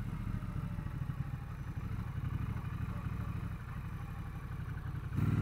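A Triumph Bonneville Bobber 1200 motorcycle riding along in first gear, its engine a steady low rumble throughout, close and fairly quiet, with no talk over it.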